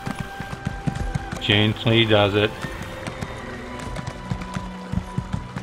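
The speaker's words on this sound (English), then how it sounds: "Oh, oh, oh, my first horse ride." Horse hooves thud in a steady running rhythm while riding in The Elder Scrolls Online, a sorrel horse, moderately loud under intermittent speech and a brief whinny-like vocal sound.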